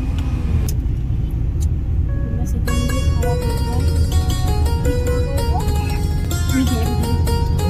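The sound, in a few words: car driving on road trip to Dhanbad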